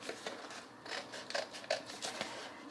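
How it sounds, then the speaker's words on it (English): Scissors snip through thin glossy Dollar Tree stick-on tile in a string of short, crisp cuts, close and quiet, with no talking. "So I'm going to go ahead and get this cut out."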